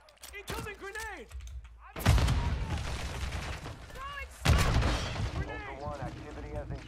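Gunfire in an online shooter game, sharp loud shots and bursts cracking at irregular intervals, with a player talking over the action.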